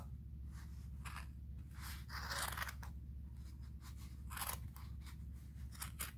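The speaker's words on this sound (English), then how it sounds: "carefully cut all the way around. And trust me, you want very sharp scissors for this" Sharp scissors snip through sweater fabric in a series of short, crisp crunching cuts, close but fairly quiet, over a low steady hum.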